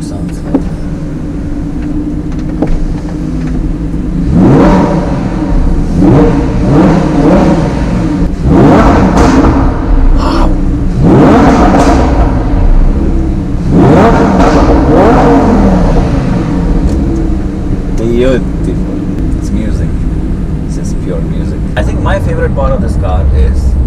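A Lamborghini Huracan, shifted from first gear into neutral while driving, revs up repeatedly: several rising engine sweeps of close, loud throttle blips over a steady rumble, with faint voices in the cabin.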